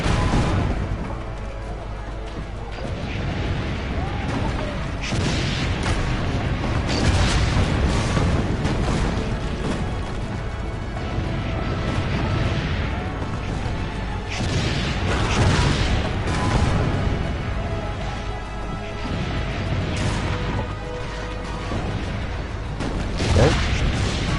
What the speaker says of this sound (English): Aim for the cannon, signore!